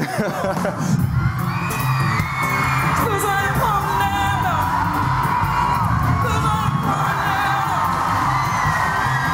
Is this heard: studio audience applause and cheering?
yes